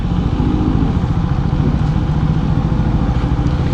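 A motorcycle is ridden into the parking area of a home, its engine chugging steadily and close at low speed throughout.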